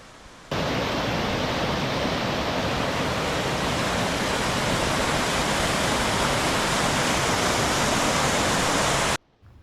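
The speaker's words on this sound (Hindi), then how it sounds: "पीछे एक वाटरफॉल्स है जिसका नाम टाइगर वाटरफॉल है" Tiger waterfall near Kashi Vishwanath Temple in Uttarkashi pours in a loud, steady, broadband roar of rushing water that cuts in sharply, holds unchanged for about nine seconds, then stops abruptly, with no voices.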